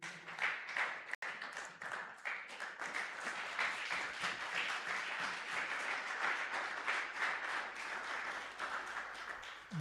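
A church congregation applauding during a Sunday service of praise and thanksgiving, a steady wash of many hands clapping at moderate distance, sustained for several seconds without talking.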